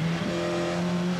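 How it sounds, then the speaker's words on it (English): A Ford Sierra Cosworth touring car races flat out in a 1980s British touring car championship race, its engine holding a loud, steady high-revving drone with a brief pitch dip near the start, heard alone without talk. "Carl Jones, the Welshman, in the Richard Asquith Ford Sierra Cosworth is going beautifully"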